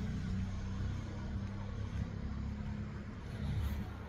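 A car drives past on a road near a rural potato-growing area, a steady, fairly loud low engine rumble and tire roar that holds across the clip with a slight swell near the end.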